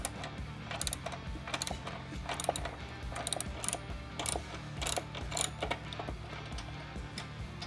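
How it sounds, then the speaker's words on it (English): A ratchet socket wrench with a 9/16 socket loosening a gas tank bolt on a Harley-Davidson Softail, giving rapid close clicking bursts in short repeated strokes with small pauses between them. No one speaks. "So same 9/16 wrench and socket."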